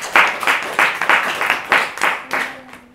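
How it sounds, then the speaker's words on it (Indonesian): Rhythmic group clapping from an audience at a talk, several sharp bursts in a regular beat that fades out near the end. "Tepuk tangan boleh untuk kita semua."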